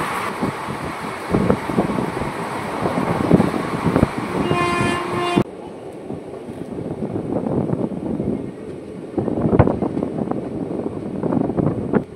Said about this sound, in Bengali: এরই মাঝে আমাদের সাথে দেখা হয়ে গেল এর অপোজিট ট্রেন।